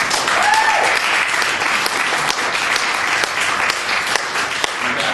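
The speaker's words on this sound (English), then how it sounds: "I think everybody deserves a big round of applause." A room full of people applauding for a long stretch, dense and steady clapping from a sizable crowd, loud and close, with a few cheers mixed in.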